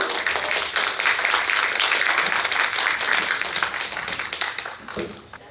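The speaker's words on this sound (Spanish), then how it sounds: "pido un voto de aplausos, por favor" An audience at a hospital nursing conference on ECMO critical care applauds, a dense steady wash of clapping from many hands that carries on for several seconds before thinning out at the end.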